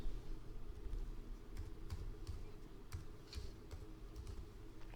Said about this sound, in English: Date information can be directly typed into a date field.